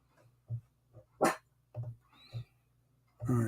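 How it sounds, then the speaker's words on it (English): A dog barks several times in short separate bursts, fairly close and moderately loud, with brief quiet gaps between barks and a higher yelp near the middle. "now the dog is going to start"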